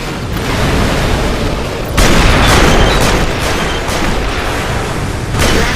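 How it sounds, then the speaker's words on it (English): Explosions and gunfire from mech combat in the Armored Core V video game: a loud, dense barrage of booms and rapid shots that keeps going, with heavier blasts punching through at intervals. "Once you start blowing things up, it's pretty cool."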